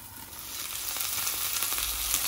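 Fresh bush beans roast in their own juice under a lid in a pan, giving a steady, close sizzle and frying hiss that builds slightly and carries no talk.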